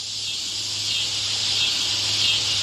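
Cicadas in summer give a dense, continuous high buzzing drone that fills the air, steady and loud, swelling slightly without any break or voices.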